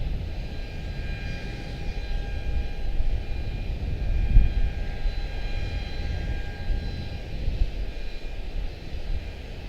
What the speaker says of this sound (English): Little guy touchdown in the background out of Panama City, CRJ9.